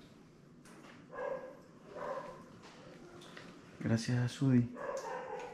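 Dogs swimming in an indoor market in Guatemala give a few short yips and whimpering barks, loudest near the end, while people talk over them.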